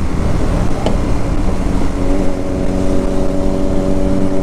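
A loud motorcycle engine on a Sunday group ride rumbles steadily up close, a thick continuous low drone with a rising tonal whine as the bike holds speed, no talking over it.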